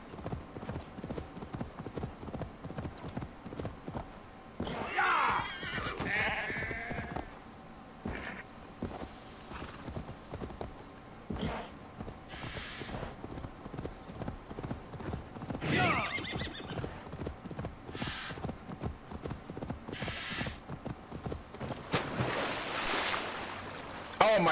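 Horse hooves clip-clop at a steady gallop with repeated neighs and whinnies in Assassin's Creed Valhalla, set in the Hamtunscire region, close and continuous throughout.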